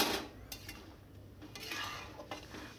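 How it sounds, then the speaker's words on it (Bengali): Spoon stirring egg curry in a pot after garam masala paste is added, with soft scraping and clinks of metal against the pot, intermittent and close, no talking. "গরম মশলা বাটা দেওয়ার পর আবার নেড়ে চেড়ে নিচ্ছি।"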